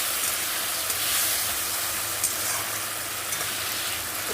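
Mashed tomato and onion sautéing together in a pan, a dense, steady hiss of frying heard up close and fairly loud throughout, with no talking.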